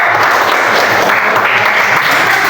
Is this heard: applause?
yes